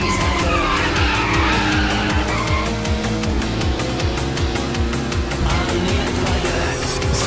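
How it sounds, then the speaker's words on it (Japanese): Cars race in the Initial D Arcade Stage 8 video game, a steady loud engine roar with rapid rhythmic tire skidding and squealing running continuously throughout. "奴の車が近づいてる。"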